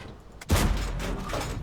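A single loud, close tank gun blast from the AC 4 Experimental in World of Tanks: a sharp boom followed by a long rumbling decay.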